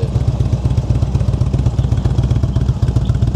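A Ranger X-Wedge motorcycle engine idles loudly and close by, its deep, lumpy exhaust thumping in a steady rhythm.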